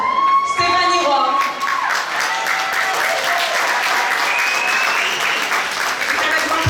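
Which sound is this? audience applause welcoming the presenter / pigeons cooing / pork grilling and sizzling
audience applause welcoming the presenter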